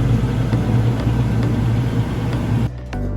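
A 2020 Toyota Tacoma TRD 4x4 truck idles with a steady, close low rumble and faint whir, running continuously before the engine note drops off near the end.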